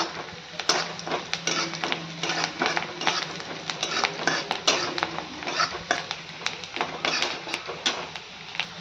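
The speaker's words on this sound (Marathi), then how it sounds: "आपण आता थोडासा हिंग घालून घेऊयात चिमूटभर तोही चांगलं मिक्स करूयात" A spoon repeatedly clinks and scrapes against a metal pan while asafoetida is stirred into a hot tempering for masoor dal, with busy rapid metallic taps and a faint sizzle beneath, close by.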